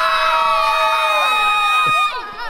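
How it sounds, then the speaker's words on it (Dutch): A group of children at a judo class cheers and shouts together in a loud, sustained high-pitched whoop, breaking off into scattered excited calls and laughter. "Dan ga je juichen"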